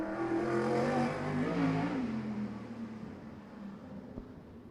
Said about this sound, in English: in the Ray Carter prepared 1995 Russ Lejeune built car with a 360 power plant. Listen to the power.